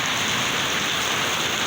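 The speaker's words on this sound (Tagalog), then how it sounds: "Lakas-lakas ng ulan dito." Heavy rain pours down in Bacolod as a dense, steady hiss and patter that stays loud and unbroken throughout, with no voices.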